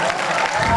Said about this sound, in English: Could we have a round of applause for Mr.